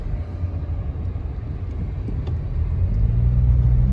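A 2018 Dodge Charger V6 accelerates with the PedalBox turned off, a low, steady engine and road rumble heard from inside the car, growing gradually louder as speed builds.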